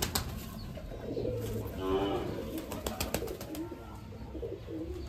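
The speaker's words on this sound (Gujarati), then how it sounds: "આવી રીતે છે પિંજરા બનાવેલા છે આમાં દેશી ને જે વાઇટ કબૂતરા આવે" Pigeons, both native and white, coo from cages at an animal shelter, low throaty calls in the middle of the stretch over faint rustling and shelter background noise.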